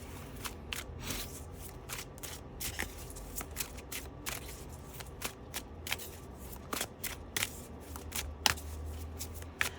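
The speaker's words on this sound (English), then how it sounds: "what I'm going to do now is pull the rest of the cards" Tarot-style cards are pulled and flicked from a deck in a quiet room, producing a steady series of crisp paper snaps and soft shuffling rustles at close range.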